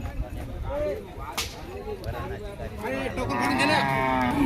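A powerful bull at a bullock cart race village fair snorts and huffs amid crowd noise, with people talking nearby throughout.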